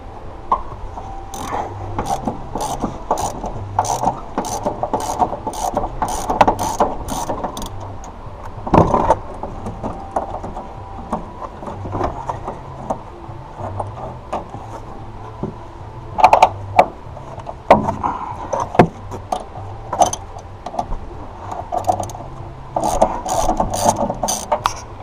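Ratchet wrench turning during a coilover install on a Honda S2000, heard as bursts of quick clicking repeated across the clip with pauses between, close and fairly loud over a steady background hum.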